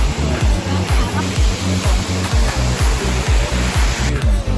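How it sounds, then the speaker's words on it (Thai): A waterfall at Phu Kradueng, Thailand, roars steadily and close, a dense wash of rushing water with a low rhythmic thumping underneath throughout. "นี่คือน้ำตกอะไรอ่ะ"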